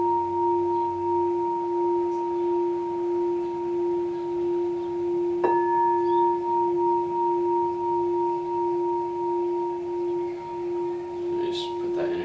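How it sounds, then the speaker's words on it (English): A Crystal Tones practitioner's crystal singing bowl tuned to F, the heart frequency, rings with a steady, sustained pure tone and a clear overtone, loud and close throughout. A brief strike partway through adds a short shimmer. "So now we're gonna use the crystal singing bowl."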